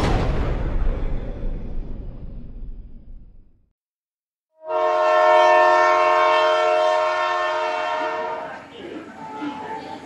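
A train sound effect opens with a loud roaring rumble that fades out, then after a short silence a long, loud horn blast sounds alone and tails off.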